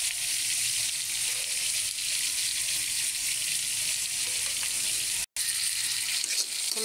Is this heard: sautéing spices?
yes